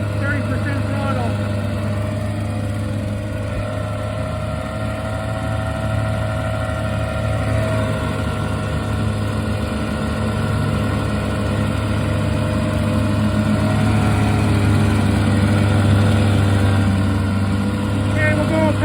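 A vintage 17hp Mercury triple outboard motor runs steadily at about a third throttle, a constant loud buzzing drone that holds even for the whole stretch with no pauses.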